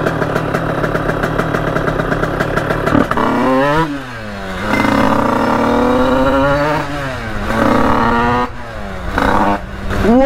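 A small 50cc motorbike engine revs up and down in loud, buzzing surges, with a rough idle between the revs, close by.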